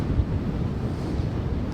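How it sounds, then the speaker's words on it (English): Strong wind buffets the microphone on the beach at Gulf Shores in the wake of storms, a loud continuous low roar with rough surf beneath it and no voices. "It's very windy out here."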